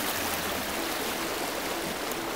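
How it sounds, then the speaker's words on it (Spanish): Broad, steady rush of the Miño river flowing past the bank in Galicia, a continuous close wash of moving water with no voices. "Parece impresionante lo grande que es el río."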